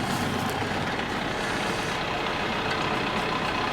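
A tractor idling at its slowest speed drives a drill boring into the ground, making a continuous, fairly faint rumbling and grinding noise that stays level throughout with no voices.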